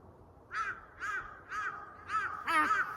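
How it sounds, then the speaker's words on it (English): Crows cawing in the evening, five loud harsh caws spaced roughly half a second apart, fairly close over a quiet background. "The birds are doing their evening performance."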